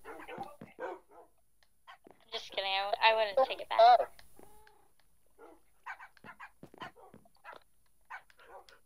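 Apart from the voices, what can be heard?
tamed wolf dogs barking in video game Minecraft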